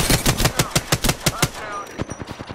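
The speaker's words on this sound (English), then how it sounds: "Shots fired. And they're hitting me." Rapid automatic gunfire in Apex Legends rattles out in a close, loud burst of evenly spaced shots, briefly easing before a few more quick rounds.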